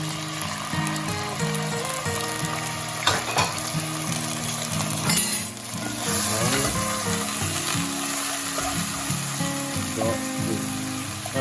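Grated onion sizzles in a hot pan with a steady, crackling hiss, with occasional clicks and scrapes of stirring and no voices.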